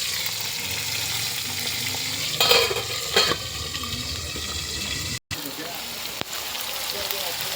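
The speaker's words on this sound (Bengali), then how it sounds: "ভাজা হচ্ছে, ঢেকে ঢেকে ভাজছি।" Food frying in oil in a covered pan, a steady close sizzle with a couple of bursts of stirring and a brief clatter, then a sharp click before the sizzle resumes.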